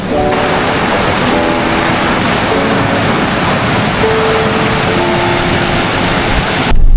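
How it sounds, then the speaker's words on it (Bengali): Water of the Credit River flowing steadily in Erindale Park, Mississauga, a continuous broad rushing wash with faint tonal hums beneath, holding level throughout. "পানিটা আসতেছে এখান থেকে ওই সাইডের থেকে এখানে ফ্লো হচ্ছে"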